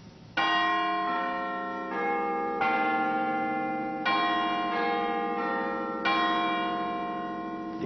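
Big Ben, the great Westminster clock bell, strikes loud, resonant chimes about five times with long ringing decay between blows, heard alone.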